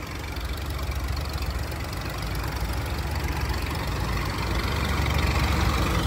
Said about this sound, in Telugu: బాబా అక్కడికంటే ఇవి చాలా పెద్ద ఇంజన్స్ అనమాట. చూసారు కదా, 2 డబల్ ఇంజన్స్.